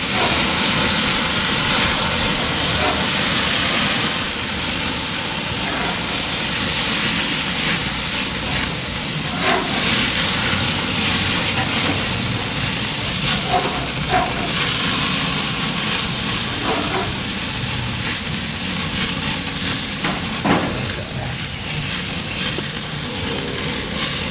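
Frozen burgers cooking on a grill over an open fire, a loud continuous sizzle and hiss with scattered crackles and pops throughout.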